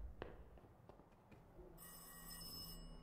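A telephone rings in the video game Welcome to Kowloon, a steady electronic trill that starts partway through and holds over quiet ambient background, with no talking.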